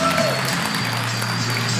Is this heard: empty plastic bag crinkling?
no